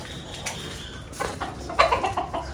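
Hens in a home backyard clucking after laying eggs, a few short, close clucks and squawks over light background noise, building toward the end.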